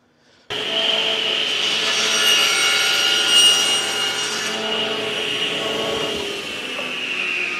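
A table saw cuts through a piece of wood held in a jig at a 10-degree bevel, giving one loud, steady whining cut that starts abruptly and holds for several seconds, close up with no talking.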